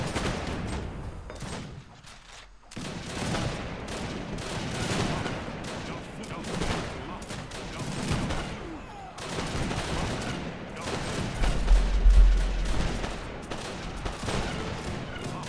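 Native snipers fire in the real-time strategy game Age of Empires 3, producing dense, rapid volleys of gunshots that crackle almost continuously, with brief lulls and a louder flurry near the end.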